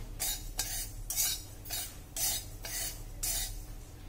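Amaranth (rajgira) seeds are stirred in a pan until they pop, giving rhythmic bursts of scraping and rattling about every half second, close and alone.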